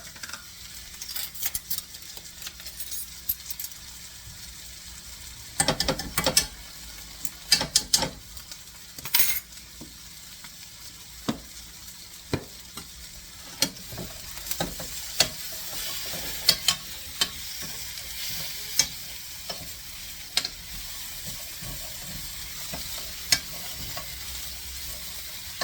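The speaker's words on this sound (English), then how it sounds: "Put the garlic in. The cooked casita. And a teaspoon of tomato paste." Garlic and tomato paste sizzling in a pan for Chicken Marsala, a soft steady frying hiss broken by frequent sharp clicks and scrapes of a utensil stirring against the pan, close and unaccompanied by speech.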